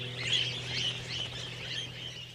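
Wild budgerigars in the Australian desert give faint, scattered high chirps over a steady low background hum, heard briefly at a distance.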